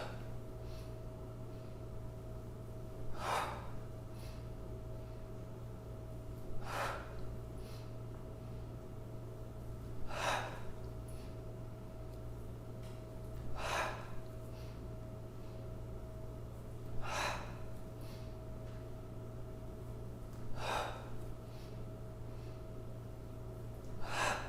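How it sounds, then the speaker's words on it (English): Deep, regular breaths during a kundalini yoga session focused on the heart, each a short, airy rush recurring roughly every three to four seconds over a steady low hum, fairly soft and close, with no talking. "Really feeling the lungs filling a little more fully as you inhale."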